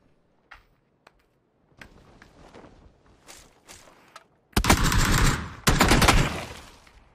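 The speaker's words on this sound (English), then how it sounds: "That was me shooting at this guy, by the way." Gunfire in PUBG: a few scattered single shots and footstep-like thuds at first, then two loud, dense bursts of rapid automatic fire close by.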